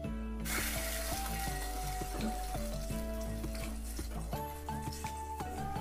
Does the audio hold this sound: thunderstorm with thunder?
no